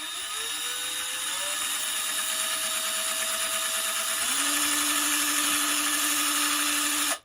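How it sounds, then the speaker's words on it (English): A power drill whines steadily at high speed, its pitch dropping partway through as it bites in, then cuts off abruptly at the end. "I'm going to drill me a little pilot hole now."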